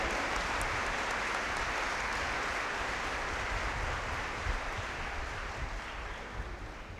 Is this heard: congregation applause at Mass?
yes